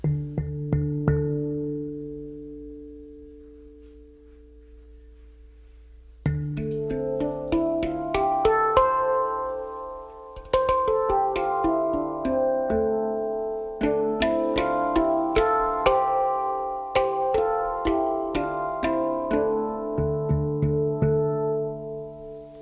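A sustained harmonic-rich drone fades out, then bright metallic steel pan notes, tuned to 440, ring in quick runs and patterns, with strong resonant overtones and no talking.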